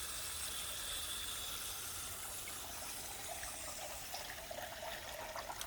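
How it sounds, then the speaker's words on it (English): A small backyard pond waterfall, fed by a pump, trickles and splashes steadily at night, a soft continuous water patter with faint hiss and no talking. "my little waterfall at night"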